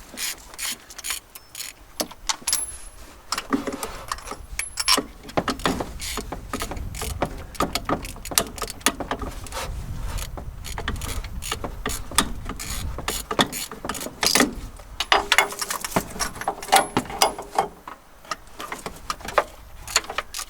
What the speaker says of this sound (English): Let's go ahead and pull some spark plugs.